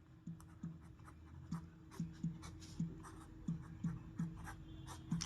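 A pen scratches across paper while a maths equation is written out for a Class 10 exercise, giving a steady series of short strokes about every half second. The writing is close and fairly quiet, and nobody speaks.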